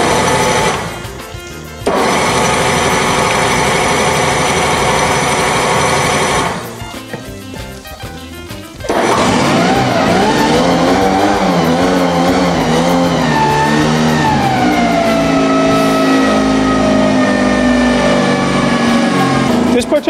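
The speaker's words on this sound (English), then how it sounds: "This particular motor here is a 4-stroke motor. Sometimes it requires a little bit more warm-up time." A Mercury 9.9 Pro Kicker four-stroke outboard on a boat runs with a loud, buzzy, even drone. It cuts out briefly twice, then starts and settles into a warm-up idle with the pitch slowly wavering.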